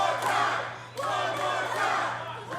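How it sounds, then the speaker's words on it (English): A wrestling arena crowd at an OVW TV show chants and roars loudly, calling for another chop, with dense overlapping voices that briefly dip before swelling again. "Crowd calling for it. They want Jack Vaughn to chop him again"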